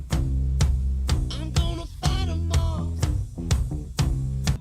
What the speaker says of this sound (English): What you're hearing is a 1950s K hollow body guitar run through a Digitech whammy pedal, drop down an entire octave.